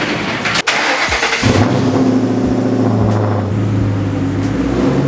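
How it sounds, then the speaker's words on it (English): A Ford Mustang engine runs steadily at close range as the car pulls forward into a garage, with a low, continuous rumble and a brief dip near the start. "I'm just gonna go ahead and pull the front of the car in"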